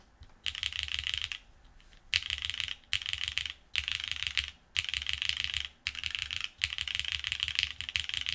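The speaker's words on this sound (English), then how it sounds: "Let's see what this sounds like now with cherry switches and a plastic plate." Bursts of clacky mechanical keyboard typing on Cherry switches with a plastic plate, fast and steady with short pauses between runs, close and fairly quiet.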